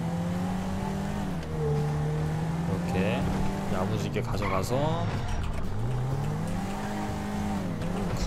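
A stolen car in GTA 5 Online is driven through Los Santos toward the Los Santos Customs shop, its engine revving and shifting under steady Korean talk that runs throughout.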